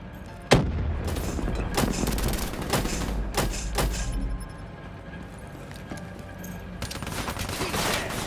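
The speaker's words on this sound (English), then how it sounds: "Grenade!" In the Call of Duty: Black Ops III video game, a grenade goes off with one sharp blast and a rumbling low tail, followed by continuous rapid gunfire and battlefield noise, loud and close.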